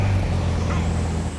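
Car engine in the Roblox driving game CDID, a steady low drone with a faint rising whine, close and even before tapering off briefly at the end, no talk.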